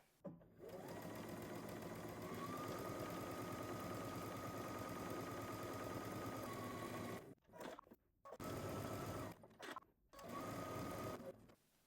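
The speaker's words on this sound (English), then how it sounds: "I'm going to head to the sewing machine, and I'm just going to do some straight lines" A sewing machine stitches straight quilting lines on fabric in a long continuous burst of rapid stitching, then stops and starts in several shorter runs, close and steady.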